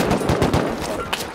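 Automatic AK rifle fire in the video game Rust, a rapid burst of loud cracking shots in quick rhythm.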